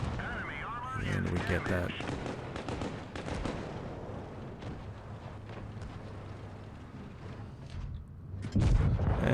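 A World of Tanks Blitz tank gun fires a HEAT round. A sharp cannon boom lands amid game noise and a spoken voice, and a heavy low thump follows near the end.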